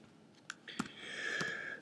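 A few quick key clicks on a Mac keyboard while typing into Spotlight search, close and quiet, followed by a faint steady electronic tone.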